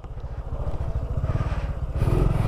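A Honda Biz 125 small motorcycle engine revs with a rapid, buzzing putter, loud and close, rising in intensity toward the end.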